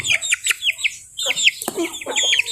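Backyard chickens and chicks, a stag among them, giving a busy run of close, high peeping and clucking calls with short gaps between bursts.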